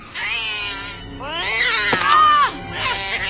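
An animated cat from a Coraline movie scene yowls and caterwauls in long, rising and falling wails that swell loud and close, with a harsh screeching peak near the middle and another wail trailing off at the end.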